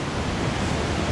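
Rushing river water where two rivers join near Guadalupe, Colombia, a dense steady roar of broadband flow, close and loud throughout with no voices.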